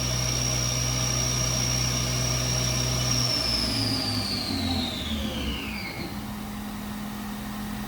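The spindle of a Haas VF-3YT/50 CNC vertical machining center holds a high, steady whine at top speed, then sweeps downward in pitch as it slows, over a constant machine hum with no speech.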